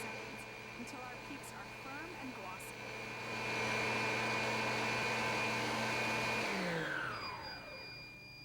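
Cuisinart stand mixer whipping egg whites with sugar at high speed, a steady loud motor whine and whirr that holds, then winds down and drops in pitch toward the end.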